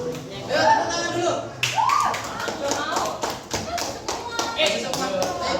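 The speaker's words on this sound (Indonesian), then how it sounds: "Ayo tepuk tangan dulu." A group of people in a classroom claps, a quick run of sharp, evenly spaced hand claps that lasts several seconds and mixes with voices talking.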